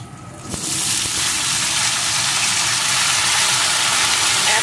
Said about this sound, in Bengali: এখন বেগুনটাও আলুর সাথে ভালো করে ভেজে নেব